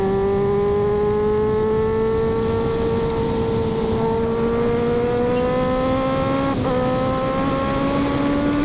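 A high-revving superbike engine drones loudly and continuously, its pitch climbing gradually with a brief gear-shift dip near the end.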